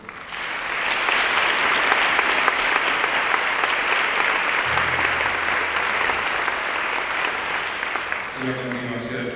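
A concert audience at a Christmas band performance gives a loud, sustained round of applause for the program's designers, steady dense clapping throughout with a brief low tone and tuning notes near the end.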